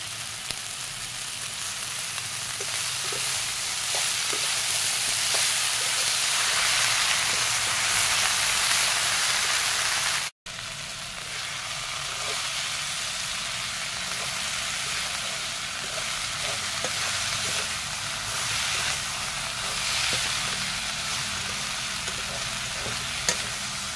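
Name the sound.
frying fiddlehead fern in a pan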